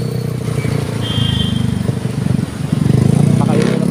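A motorcycle engine runs steadily close by with a rough, throbbing idle that swells slightly toward the end, while someone talks over it on a road under an overcast sky.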